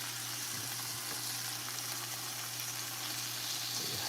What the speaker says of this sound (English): Turn the pan up a little more, and we're gonna just cook our bacon.